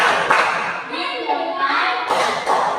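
A classroom of children chanting together as they clap in rhythm during a teaching session, with sharp group claps near the start and end breaking through the sung words.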